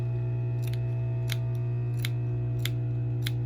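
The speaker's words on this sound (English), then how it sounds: "So clip that corner off like so, clip this corner, just trim it down." Scissors snipping the corners off fabric pieces for a homemade medical face mask, five crisp cuts at a steady pace over a constant low hum.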